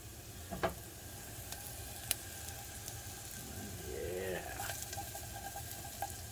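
Jalapenos fry on low heat in a pan, giving a soft, steady sizzle broken by a few light taps and stirring scrapes as the pan is kept moving.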